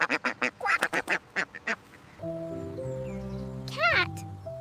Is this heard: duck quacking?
yes